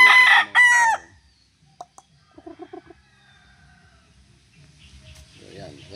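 A golden boy sweater gamefowl rooster crows twice loudly and close, with a few soft clucks afterward and someone speaking quietly near the end.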